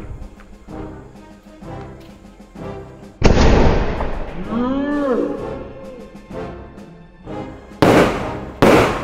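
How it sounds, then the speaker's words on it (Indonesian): Dragon ball bazooka fireworks go off, with a sharp launch blast followed by whistling, rising and falling screeches and crackling, then two more loud bangs near the end, with faint voices between. "Ini bahaya petasannya."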